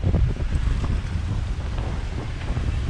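Steady wind roars and buffets across the microphone aboard a sailboat under way at about 6.6 knots, mixed with water rushing along the hull, loud and continuous with no voices.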